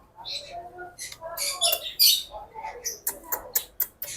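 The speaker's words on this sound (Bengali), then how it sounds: "কিসমি বেবি অসাধারণ পাখি দেখতে পাচ্ছি" A tame pet bird in a bird shop squawks and chirps in a quick run of sharp, bright calls, growing denser toward the end, heard up close with a voice coaxing it in between.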